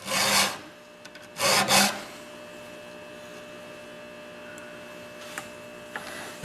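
A hand file rasping along a chainsaw chain in two short bursts of strokes near the start, then quiet with only faint ticks and light scrapes for the rest.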